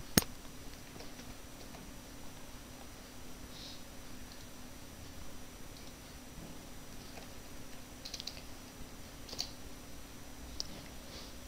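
Soft, sparse clicks of typing a command on a computer keyboard come through faintly, with a few light keystrokes spread over steady low background hum. No one speaks.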